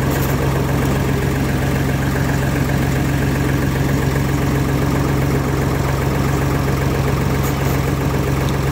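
A Deutz Fahr tractor engine runs at low idle with the PTO engaged, a steady close diesel throb and hum with faint mechanical chatter, loud and unbroken throughout.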